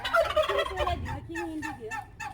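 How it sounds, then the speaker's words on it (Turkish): Rapid, warbling gobbles from a male turkey ring out close by, one burst after another in quick succession. "Ha, hindi bu."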